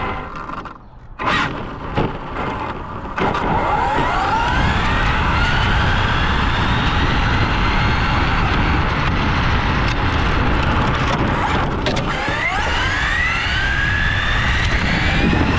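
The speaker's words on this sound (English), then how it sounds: "now I'm gonna do some drifting around" An Arrma Infraction 6S RC car with a Castle combo, on GRP tires, drifts around with a loud, continuous high-pitched motor whine that rises and falls in sweeping pitch as it slides, close by, with brief knocks at the start.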